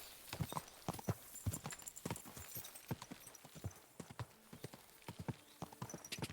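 Crisp, irregular clip-clop of horse hooves in Kingdom Come: Deliverance II, close and clear, walking steadily over a hard surface throughout.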